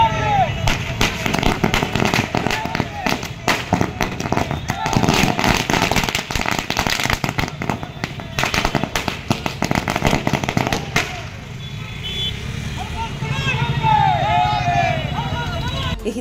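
Firecrackers burst in a rapid, loud, continuous volley at a community street celebration at Timmapur Circle in Kalaburagi. They then stop abruptly, leaving crowd noise and voices.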